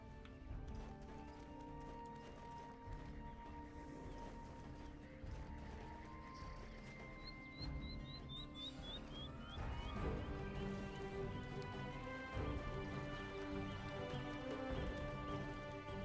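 A mounted horse trots in the online game Black Desert Online, with steady clip-clopping hooves over layered game music and effects, moderately loud throughout with no speech.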